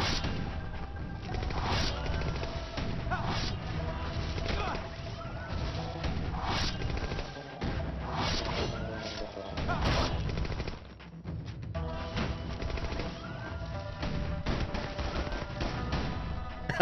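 Rapid bursts of machine-gun fire from the video game Dusty Raging Fist, dense and loud, running almost without a break, with repeated heavy volleys and crashing impacts layered through the whole stretch.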